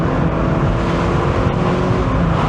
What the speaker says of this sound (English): I can definitely hear the car in here.